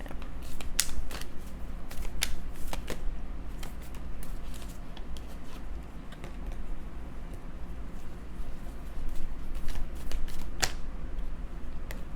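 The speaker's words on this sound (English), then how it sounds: "So I'm going to pull just a few more cards." Tarot cards shuffled and pulled from the deck, close and continuous riffling and flicking with sharp card snaps scattered throughout, over a low steady hum and with no speech.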